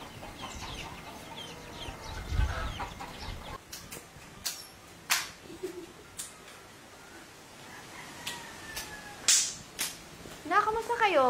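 Chickens cluck intermittently with short bursts of sound and a rising, rooster-like call near the end, mixed with scattered knocks and people talking in the background.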